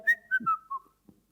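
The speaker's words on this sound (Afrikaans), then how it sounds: "hy fluit sommer 'n liedjie, hy is so vrolik en opgewonde" A cheerful little tune is whistled, a short series of bright, clear sliding notes.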